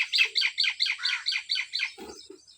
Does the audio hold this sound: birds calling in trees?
yes